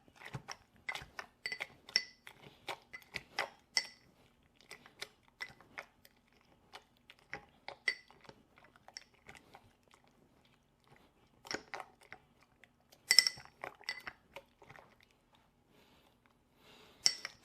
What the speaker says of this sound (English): So next we're going to muddle these.